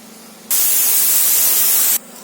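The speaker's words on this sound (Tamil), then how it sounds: "குக்கரை மூடி விசில் விடலாம்." A loud, steady hiss of escaping steam bursts out suddenly from a pressure cooker whistle, holds for about a second and a half, then cuts off abruptly.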